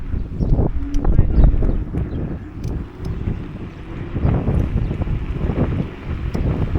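Wind blowing across a microphone at a seaside promenade, a steady rough rumble with gusty surges, heard alongside someone talking.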